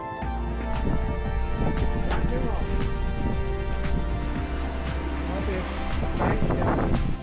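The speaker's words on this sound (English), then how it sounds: "The wind picked up a little bit and we are just flying along." Steady, loud wind rushing past the microphone aboard a sailboat moving fast in about 10 knots of breeze, with water noise underneath and someone talking over it.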